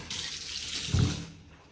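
Herb leaves rinsed under a running kitchen tap: a short, close burst of splashing water that swells briefly, then tapers off.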